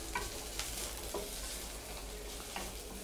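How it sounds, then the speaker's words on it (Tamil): Onions and curry leaves sautéing in a pan for a zucchini raita tempering, a steady close sizzle with a few soft stirring scrapes throughout, no talking. "வெங்காயத்தை வந்து நல்லா வதக்கிக்கோங்க."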